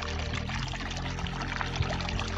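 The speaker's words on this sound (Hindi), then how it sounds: "थोड़ा थोड़ा पानी बह रहा है," Water flowing in a small stream near a river by a mustard field, a steady, continuous pouring rush that fills the whole moment without pause.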